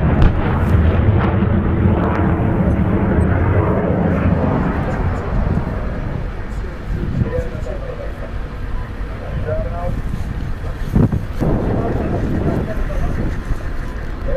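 A US multiple rocket launcher fires during a Jordanian Army training exercise, giving a loud, sustained roaring blast that slowly fades over fourteen seconds, with voices talking over it.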